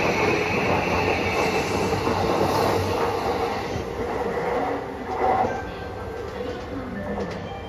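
A black JR Yamanote Line train departs Shinagawa Station, a loud continuous rumble of wheels and running gear with faint squeals and clatter, slowly fading as it pulls away, while a voice speaks in the station.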